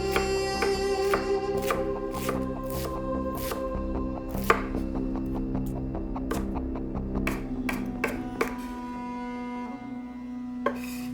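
Sorrel stems being chopped finely with a knife on a board, a steady run of sharp, close knocks in quick bursts over a faint background hum, with no talking.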